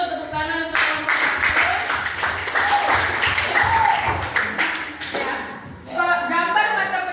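A classroom group claps for the first presenting team, a burst of applause with some voices mixed in, fading briefly near the end before picking up again.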